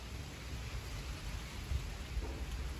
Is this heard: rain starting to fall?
yes